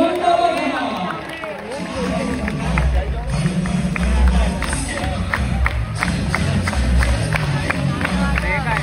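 A crowd cheers and claps for a Govinda team at a Pro Govinda dahi handi qualification round, a loud sustained roar with rhythmic clapping and an announcer's voice over it.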